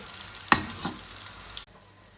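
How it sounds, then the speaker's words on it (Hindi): Corn kernels for restaurant-style crispy corn fry on high flame, with a loud stirring clatter and sizzle that fades to a quieter hiss. "इसे 2-3 मिनट के लिए हाई फ्लेम पर फ्राई करेंगे"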